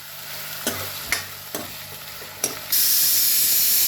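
Onions fry in a pan for sambar, sizzling steadily while a utensil scrapes and stirs in several distinct strokes, then a loud, bright hiss surges up near the end.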